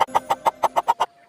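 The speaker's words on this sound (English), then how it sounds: "H for hen" A hen clucks in a quick run of about eight evenly spaced, sharp clucks, close and distinct, followed by a brief pause and one more.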